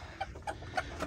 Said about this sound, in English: over there, some Rhode Island Reds, Americana, some barred rocks